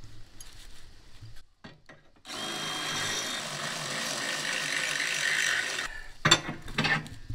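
A power drill whirs steadily for a few seconds after some clanks and clicks, then stops, followed by a few sharp metallic taps.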